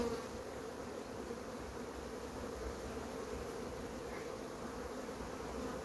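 Honey bees drone at a crowded hive of a colony being moved, a steady, dense buzz close by, fairly quiet and unbroken, with no voices.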